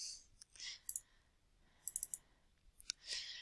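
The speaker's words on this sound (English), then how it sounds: "I can double click on the point of that symbol" Close, crisp computer mouse clicks, including a quick double click, sounding as sharp little ticks at a quiet desk with no talking.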